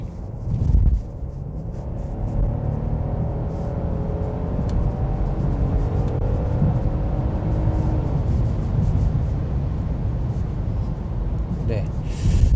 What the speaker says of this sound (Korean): 여기도 지금 차가 없기 때문에 가속을 한번 해볼게요.